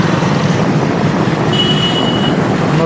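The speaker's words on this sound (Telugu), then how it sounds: "ఈ ఓవర్ బ్రిడ్జ్ పక్కనే కింద దిగువలో రైల్వే స్టేషన్ ఉంది." A train rolls through a railway station lying beneath an overbridge, a loud, steady rumble that fills the whole stretch, with a brief thin metallic squeal rising partway through and no voices.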